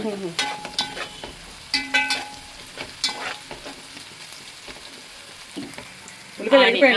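Onions frying for fish curry, loud sizzling broken by repeated scraping stirs, ending in a brief louder burst of spatter.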